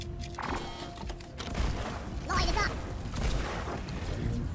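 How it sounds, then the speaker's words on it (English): Flare gun shots fired in the video game Deep Rock Galactic, heard as a few punchy bursting pops over a steady, busy wash of game noise. "Flare gunshots."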